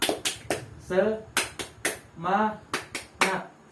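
A classroom of students performs the 'tepuk semangat' clapping chant, sharp rhythmic claps in a repeating pattern alternating with short shouted chant syllables, close and fairly loud.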